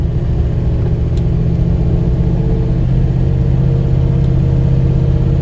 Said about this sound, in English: Take you for a little virtual test drive here.